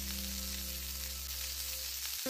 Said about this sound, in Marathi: ऑइल छान गरम झाल्यानंतर त्यात टाकायचे जिरे